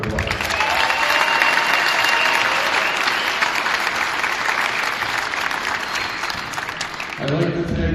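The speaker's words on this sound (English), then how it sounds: "give them all a round of applause." Audience at an honoring ceremony for a coach giving a long, steady round of applause, dense clapping from a crowd that holds evenly for about seven seconds before tapering as a voice comes in.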